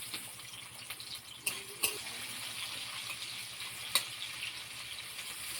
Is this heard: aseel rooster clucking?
no